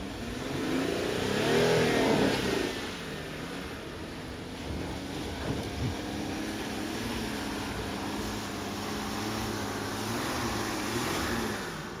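A VW Touareg SUV engine revs steadily while driving into floodwater off-road, with a swell of power near the start, then holds a sustained, moderately loud drone throughout.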